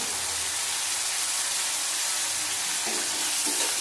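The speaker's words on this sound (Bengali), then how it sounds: "ভালো করে কষিয়ে নেবো আবার।" Ginger and garlic paste fries in a pan with a steady, close hiss and crackle, and faint stirring scrapes come in near the end.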